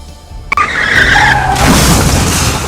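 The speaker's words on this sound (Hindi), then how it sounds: "भीषण टक्कर के बाद बाइक 50 फीट तक चिंगारी के साथ घिसटती रही" On a road in Vadodara at night, a motorbike skids and scrapes along the tarmac after a high-speed collision with a pedestrian, opening with a sharp impact crack and then a loud, sustained grinding screech that trails off.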